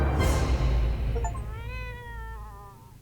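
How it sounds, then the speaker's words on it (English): A cat meows in a video game set in a bunker, a clear rising and falling meow with harmonic stripes that comes in after a loud burst of game noise and fades out. "The cat is here!"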